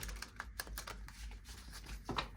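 Tarot cards being shuffled by hand, a quiet run of quick crisp riffling clicks and flutters close up, faint and uneven, with no talking.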